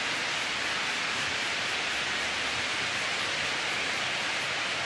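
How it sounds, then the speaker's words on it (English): Water misted from a spray bottle over model railway ballast, heard as a steady unbroken hiss lasting about five seconds, close and moderately loud, with no speech. "You then mist this with wet water."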